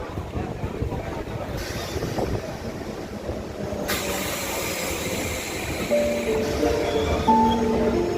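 A train pulls into Madhukunda station in Purulia with a steady, loud rumble of rolling wheels and a rising hiss. Faint tonal squeals come in toward the end.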